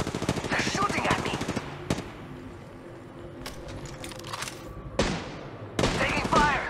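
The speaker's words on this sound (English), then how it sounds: "There's another squad! They're shooting at me!" Rapid automatic gunfire from an enemy squad in Apex Legends Mobile, loud bursts of shots filling most of the stretch with sharp cracks and a pause near the middle, while a player talks over it.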